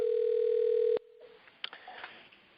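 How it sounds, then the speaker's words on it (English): A steady telephone tone sounds alone and loud on a call line for about a second, then cuts off abruptly, leaving faint line noise and a few small clicks. "I hear a ringing phone in my ear."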